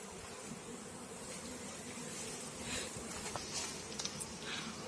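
Faint, steady buzzing of honey bees crawling on the ground between rows, a soft continuous drone with a few brief higher whirs near the end.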